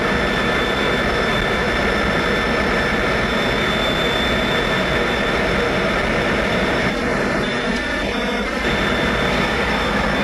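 A Lockheed T-33 jet engine runs during startup with a loud, steady roar and high whine that stays constant throughout, heard close up without pauses.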